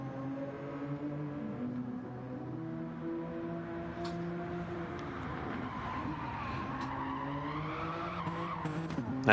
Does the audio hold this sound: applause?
no